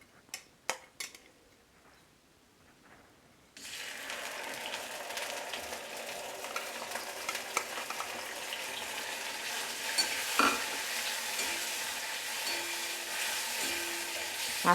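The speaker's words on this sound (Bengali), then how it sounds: "তেলটা গরম হয়ে গেছে, আঁচটা আমি মিডিয়াম করে মাছগুলো এবার এর মধ্যে আমি ভেজে নেব।" Fish frying over medium heat in hot mustard oil for lau chingri, a steady loud sizzle that starts abruptly after a few quiet clinks and continues throughout, with occasional utensil taps.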